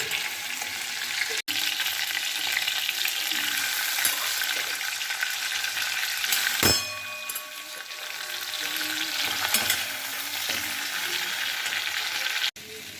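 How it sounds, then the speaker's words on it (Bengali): Giant river prawns fry in hot oil, a dense, steady sizzle that runs throughout, with a brief clunk and dip partway through. "মাছগুলো ঠিক এরকমভাবে ভেজে নিতে হবে"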